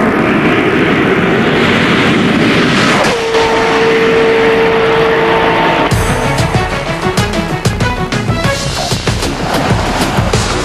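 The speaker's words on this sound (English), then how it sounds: "you can hear that beautiful sound of that 5 barrel per cylinder V8 back behind me." A 1998 Ferrari 355 F1, mid-engine with a five-valve-per-cylinder V8, running at top speed on a banked proving-ground track; a loud, sustained engine roar with a held high tone and rising gear changes near the end.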